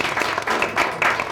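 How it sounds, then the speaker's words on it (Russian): Audience applause at a televised political debate show, a dense broadband clapping that swells in several quick surges over about a second. "на этом предлагаю завершить аплодисментами"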